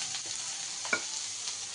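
Cashews and onions fry in a pan with a soft, steady sizzle, broken by a few light stirring scrapes and one brief sharper clink partway through.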